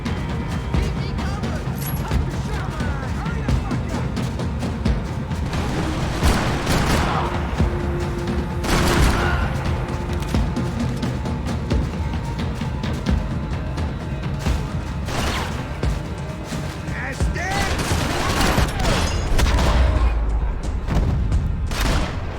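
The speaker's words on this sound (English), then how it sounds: "Gunfire over Hoboken." Continuous gunfire in Max Payne, bursts of shots and booming blasts over a dense, loud battle din with no clear pauses.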